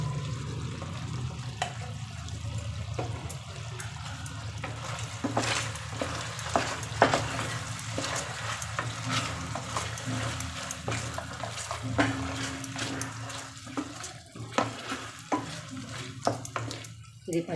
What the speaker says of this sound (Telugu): ఇది పచ్చివాసన పోయే వరకు మంచిగా ఫ్రై చేసుకోవాలండి.